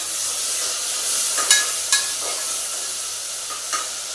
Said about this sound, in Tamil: வெங்காயம் கொஞ்சம் வணங்கிட்டு வரேன்.